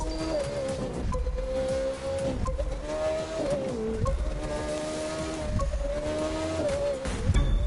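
A McLaren F1 road car races in The Crew 2, its engine droning steadily at high revs with pitch dips at gear shifts, loud and close throughout.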